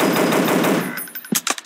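Gunfire in the mobile dinosaur-hunting shooter Dinosaur Hunter: a rapid burst of close, loud shots, then a few sharp single cracks as the firing trails off.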